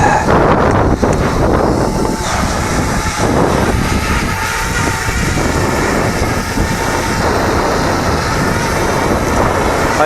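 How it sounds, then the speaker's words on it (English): Strong wind buffets the microphone while a Parrot Bebop 2 drone flies outdoors, a loud continuous roar with gusty rumbling that never lets up. "Fighting the goddamn wind."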